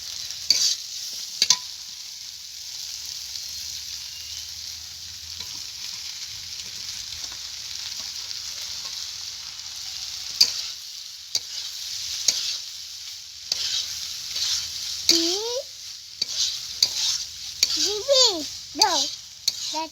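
Boiled pasta tossed with cooked vegetables in a hot pan for a spiced egg pasta sizzles steadily while a spoon scrapes and stirs, with occasional clinks and faint voices in the background.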